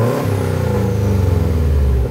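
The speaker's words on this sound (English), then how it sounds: "It's beautiful whistle of the turbo." Inside the cabin of a 2005 Subaru Impreza WRX with an APEX exhaust, a steady low engine drone carries a faint high turbo whistle over about two seconds, loud and continuous with no talking.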